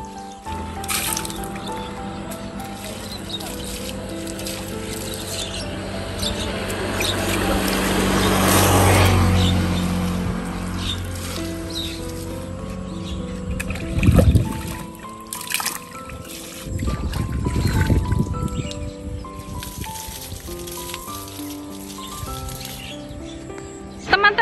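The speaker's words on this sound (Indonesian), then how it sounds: "jadi kami harus siram-siram sayur." Water splashes and trickles over vegetable plants in a garden on a hot day, swelling into a louder gush midway and returning in bursts, with faint bird calls in the background.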